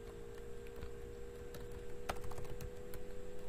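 Typing on a computer keyboard while entering text into a website builder, a quiet run of soft irregular key taps over a steady background hum, growing slightly busier toward the end.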